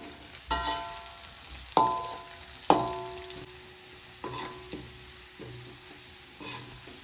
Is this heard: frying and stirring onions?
yes